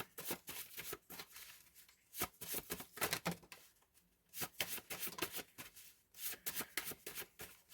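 Oracle cards being shuffled by hand in repeated bursts of riffling and flicking, close and fairly quiet, with no talking.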